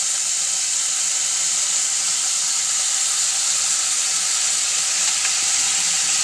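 Ramen noodles frying in a pan as light soy sauce is added, giving a loud, steady, unbroken sizzle with a hiss of steam throughout and no speech.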